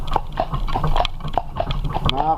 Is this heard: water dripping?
no